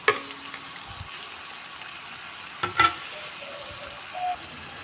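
Ginger dropped into a hot pan with garlic, frying with a soft steady sizzle, broken by a couple of sharp clanks and stirring scrapes near the middle and a brief faint squeak near the end.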